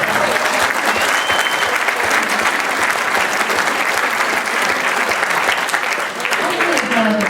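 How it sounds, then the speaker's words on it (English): Sustained, dense applause from an audience at a political speech on conservative foreign policy, loud and steady throughout without a break. "There's applause for that line"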